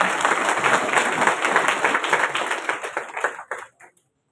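Crowd applause at a public felicitation event in Udaipur honoring a former rural MLA: dense, steady clapping from many hands that holds for about three seconds, then thins out into a few scattered claps and stops.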